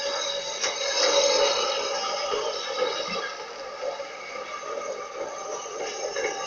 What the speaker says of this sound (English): Following 80091 through the station, with a train of coal empties for Waterside